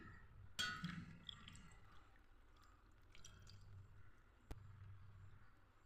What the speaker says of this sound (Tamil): அடுத்து வெள்ளை தண்ணியை சேர்த்துடலாம்.